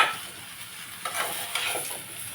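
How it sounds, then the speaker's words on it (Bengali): Five-spice seeds and dried red chillies sizzle in hot oil as they are stirred for a jaggery and mango dish. A steady, close sizzle is broken by a few scraping stirs. "তেলের মধ্যে পাঁচফোড়ন শুকনো লঙ্কা দিয়ে, আর এখন এটাকে নাড়ছি একটু"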